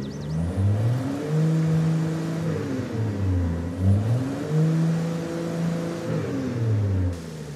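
A Nissan GT-R R35 found abandoned in a forest, heard in Forza Horizon 5, revs repeatedly, its engine note swooping up and down in several loud, close surges before cutting off near the end.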